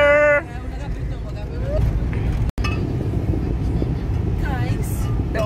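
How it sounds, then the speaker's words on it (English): Steady low rumble of a car driving home, heard from inside the cabin, with voices chatting over the road noise. "So we're driving home now."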